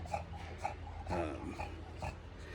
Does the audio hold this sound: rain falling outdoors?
no